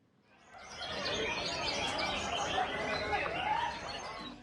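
Many songbirds chirping and trilling at once at a bird-singing contest on an army base tennis court in Palembang, a dense, continuous chorus of overlapping calls with faint crowd chatter underneath.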